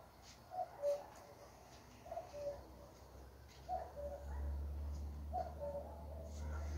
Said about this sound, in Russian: А кукушка неустанно кукует.